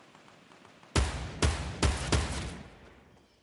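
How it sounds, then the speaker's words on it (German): Four sharp gunshots crack out in quick succession in the video game Fortnite, each with a short echoing tail that fades into the quiet background. "Hier fallen Schüsse, okay."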